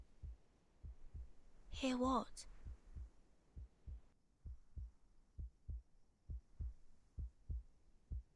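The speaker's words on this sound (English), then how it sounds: "A heartbeat. Right outside the door." A slow, steady heartbeat thuds outside a door in the video game Reverse: 1999, repeating evenly and loud in the low range, with a brief burst of voice or effect early on before the beats continue alone.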